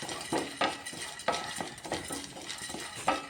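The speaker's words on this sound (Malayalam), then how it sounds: "ഇനി പാനിൽ തന്നെ നമുക്ക് അടുത്തത് കടലപ്പരിപ്പ് ഇട്ട് കൊടുക്കാം" Chana dal being stirred and roasted in a pan, with a spoon scraping and clinking at a steady rhythm over a faint dry rustle, close and fairly quiet, with no speech.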